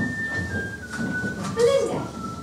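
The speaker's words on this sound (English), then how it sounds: "who's that whistling outside?" A man whistles outdoors on the grounds of a girls' school: a steady high whistled tone with a few wavering, rising notes, heard from a distance through the room and held for a couple of seconds.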